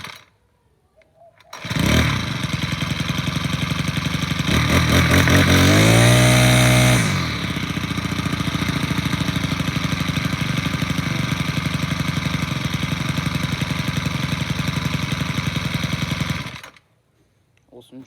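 A Troy-Bilt TB575 string trimmer engine cold starts, surging to a loud high rev, then settling into a steady buzzing idle for over ten seconds before cutting off, close up.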